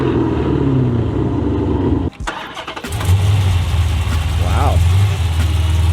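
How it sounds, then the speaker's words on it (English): A Dodge Challenger-style V8 car fitted with a Hellcat OEM catback exhaust and American Racing long tube headers idles loudly and close, with a brief drop and a revving swell, while people talk over it. "It's a Hellcat OEM catback and American Racing long tube headers."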